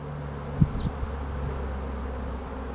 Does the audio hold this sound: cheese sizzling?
no